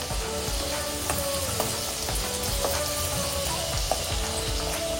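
Kochuri made with green peas fry in hot oil with oil spooned over them, a loud, dense, continuous sizzle, close up, with small pops and crackles throughout.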